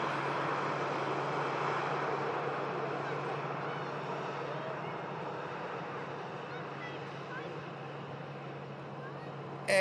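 A KLM Embraer E2 airliner departing for Amsterdam Schiphol, a steady distant broadband engine roar that holds evenly throughout and fades slightly toward the end.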